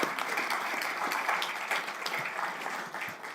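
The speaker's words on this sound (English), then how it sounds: "Another round of applause." Steady round of applause from the audience at a county board of commissioners regular meeting, dense broadband clapping filling the room without a break, fairly even in loudness throughout, with no talk over it.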